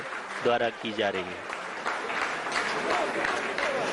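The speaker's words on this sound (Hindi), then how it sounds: "जी हाँ, आप इस तालियों के गड़गड़ाहट को सुन सकते हैं," Scientists in mission control clapping during the Chandrayaan-3 lunar descent, a broad wave of applause that builds and continues behind a voice speaking at the start.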